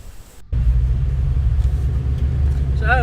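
A 2018 Ford Mustang 5.0 V8 Shadow Edition starts with a brief click, then its engine settles into a loud, steady, deep rumble from inside the car as it drives on an open road.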